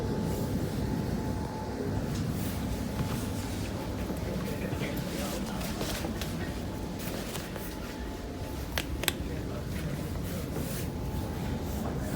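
Adelaide Metro three-car diesel multiple unit, car 4026, pulling into Adelaide station: a steady low rumble inside the railcar with a faint tonal hum and a couple of sharp squeaks or clicks near the end.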